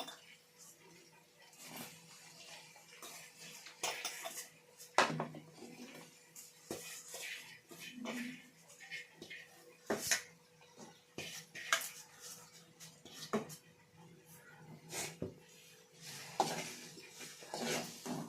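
Chicken pieces stirred in a pan with browned masala for spicy chicken thokku, intermittent scrapes and clinks of a spoon against metal, some louder knocks, a faint low hum between them.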